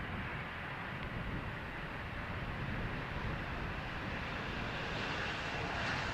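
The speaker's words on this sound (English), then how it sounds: "one after the other KLM Embraer touches down" A KLM Embraer jet lands at Amsterdam Schiphol on runway 18R, a faint, distant, steady engine rumble that swells slightly toward the end, with no voices.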